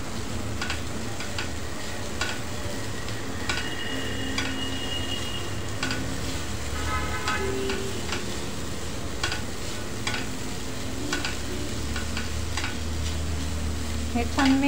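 Vermicelli upma, salted, is stirred and sautéed in a pan, giving a steady low sizzle under repeated scraping and tapping of a spatula against the pan.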